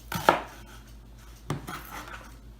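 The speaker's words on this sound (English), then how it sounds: "So very easy meal because all you're doing pretty much is chopping." Vegetables are chopped with a knife on a cutting board, a few close, sharp thuds: a quick double knock at the start, then another cut about a second later, with quiet between.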